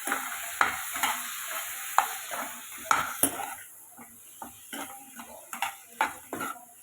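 Ginger garlic paste fries in a pan of mushroom curry with a constant hiss of sizzling. A spoon knocks and scrapes against the metal pan in an uneven rhythm, close by, with no talking.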